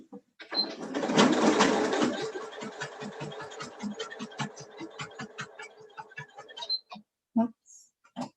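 A sewing machine stitches a table runner with a rapid, rhythmic run of mechanical pulses that starts dense, loosens into separate ticks and then stops, with a few scattered clicks afterward.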